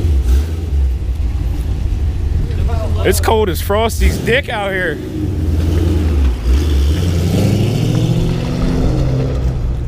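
A Camaro engine rumbles and revs nearby at a steady, loud level through the whole stretch, with someone talking briefly over it partway through.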